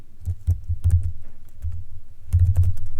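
Fingers type on a computer keyboard in quick, close clusters of clicks, with a short lull in the middle before a final burst of keystrokes.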